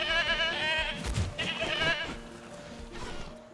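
Goats bleat repeatedly in Jurassic World Evolution, a few close, wavering cries over soft game ambience.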